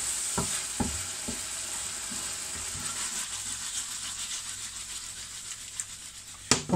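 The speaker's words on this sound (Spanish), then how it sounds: "se ha puesto a freír con los jugos" Meat frying in its own juices in a paella pan, with olives and mushrooms, a steady soft sizzle broken by a few sharp clinks of a utensil near the start and end.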